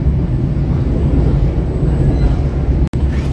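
A passenger train runs straight through Maswati station without stopping, a loud, steady low rumble of wheels and rail noise held for the whole stretch, with one very brief dropout near the end.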